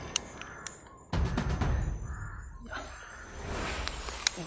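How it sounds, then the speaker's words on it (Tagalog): A crow caws several times outdoors, harsh calls spaced over a few seconds, fairly close, over a low rustling background. "May uwak po."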